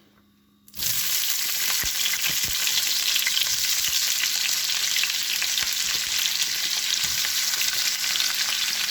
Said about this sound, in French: Je fais revenir notre oignon